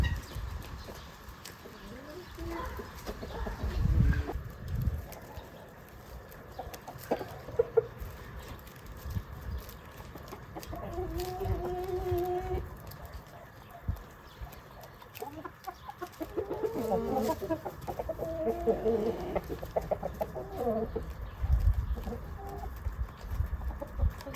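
Jersey Giant chickens cluck and call in a farmyard in autumn, with short harmonic bursts over a busy outdoor background and occasional low thumps and rustling.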